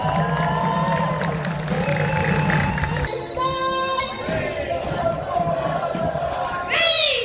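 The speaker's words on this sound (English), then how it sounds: "Let's have another round of applause for Yasser Abdullah." Crowd at a Gaza solidarity rally in Otautahi cheers and claps, a broad roar of voices with shouts and whoops, swelling again near the end, with some calling out over the noise.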